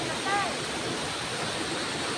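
Waterfall on Chukungtam mountain in rainy weather, a steady broadband rush of falling water filling the whole clip at moderate level, with a brief faint whistle-like tone near the start.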